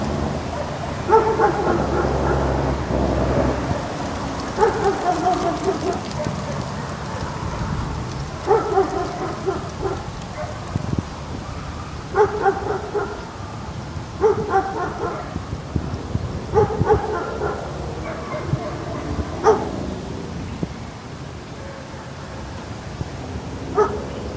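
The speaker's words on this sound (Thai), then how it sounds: "คือมาดูน้องหมาครับ น้องหมาเจ้าสุนัข" Small dog barking in repeated short bursts, close and loud, separated by pauses over a steady rain-like background hiss, with a few whimpers mixed in.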